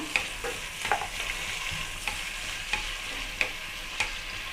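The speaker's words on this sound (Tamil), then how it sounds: "வெங்காயம் வந்து நல்லா வதங்கட்டங்க" Sliced onions frying for chicken biryani, a constant hissing sizzle broken by regular sharp spoon scrapes and clinks against the pan, roughly every half second to second.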